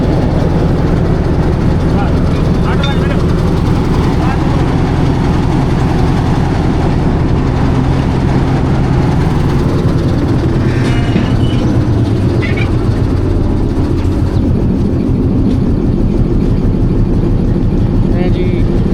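Locomotive 8045 being detached from a Thall Express passenger train, a loud close diesel engine idling and rumbling continuously with faint metallic clanks from the coupling, while someone talks over it.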